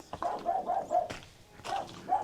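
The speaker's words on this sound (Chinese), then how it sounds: "这边有狗叫，应该是有人住" A dog barks several times at moderate distance among courtyard houses of an ancient walled town in Hebei, the short yelps coming in an uneven series over faint background hiss.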